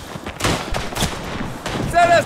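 Gunfire in the World War I shooter Tannenberg, a few sharp reports scattered across a busy battlefield mix, with a brief whistling tone near the end and faint voices.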